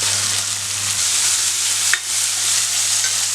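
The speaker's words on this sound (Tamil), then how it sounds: "இதை இதில் போட்டு வதக்கிக்கலாம்" Okra masala ingredients sauté in a hot pan with a steady, close sizzle throughout, broken once midway by a brief stirring knock.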